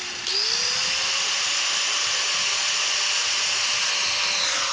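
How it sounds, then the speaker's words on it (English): An 80-grit power sander working Bondo filler on a car body kit spins up after a short pause into a steady, high, whirring drone, close and loud, with a faint scratchy grinding underneath. "Sand it down good with this 80 grits sander."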